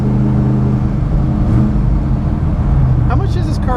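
A 1974 Dodge Dart with a new distributor accelerating, its engine note rising in a loud, close roar that swells through the middle and stays strong; a brief whine and other sounds cut in near the end.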